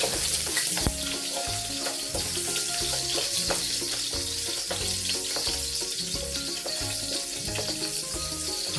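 Ingredients fry in hot oil with a dense, steady crackle and sizzle that fills the whole span at a constant close level, with small pops and bubbling throughout and no talk.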